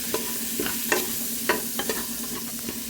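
Small shallots stirred and sautéed in a pan, with a steady close sizzle punctuated by repeated scraping strokes of a spoon against the pan, no voices.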